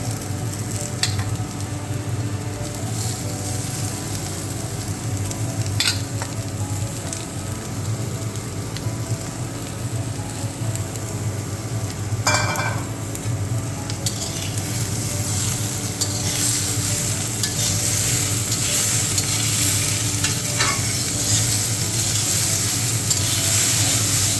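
Onions and potatoes frying in a pan, a loud steady sizzle close by with intermittent scraping and clinks of stirring, lasting throughout.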